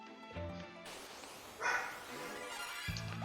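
A dog barks in the background, a few muffled, distant woofs mixed in with music and other indoor sounds.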